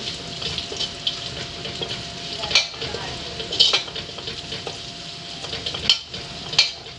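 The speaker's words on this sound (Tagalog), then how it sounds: "Pagkatapos ho ng luya, sinusunod ko na rin ang bawang. Halo lang." Minced ginger and garlic sauté in a home kitchen pan for laing, a constant close sizzle punctuated by several scraping stirs of a spatula against the pan, with no speech over it.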